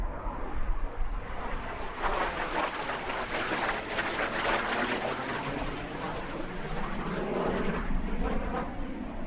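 A Langley T-38 Talon jet in a blue aggressor paint scheme flies past at an air show, its roar swelling to a loud peak mid-pass and then trailing off into a lingering rumble, with no speech.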